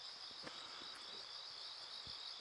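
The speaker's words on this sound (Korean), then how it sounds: "귀뚜라미 소리가 전체잖아" Crickets chirp in an unbroken high-pitched drone, faint but constant, with no voices.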